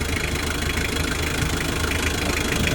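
A motorcycle engine runs at a steady idle, its even mechanical chatter and low rumble continuous and fairly loud with no speech.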